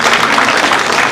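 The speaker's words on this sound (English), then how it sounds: "Can we give them a round of applause?" A brief, loud burst of audience clapping at a policy roundtable forum, dense and close, lasting only about a second.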